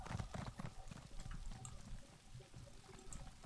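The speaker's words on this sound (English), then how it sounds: "Let's get a horse and mount the horse" Horse hooves clip-clop in the video game The Elder Scrolls Online, a steady quiet trotting rhythm with faint background game ambience and no talking.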